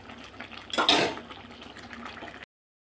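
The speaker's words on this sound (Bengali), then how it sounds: "তাই আমি এখানে জল অ্যাড করলাম।" Water is poured into a pot of chicken curry, giving a brief, close splashing pour that swells and then fades into a quieter, steady trickle.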